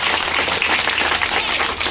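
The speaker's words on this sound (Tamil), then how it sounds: "எல்லாரும் டீச்சருக்கு ஒரு கைத்தட்டல் கொடுங்க." An audience applauding a first-grade teacher at an event with a Congress MLA, a dense, steady wash of clapping from many hands, loud and continuous without pause.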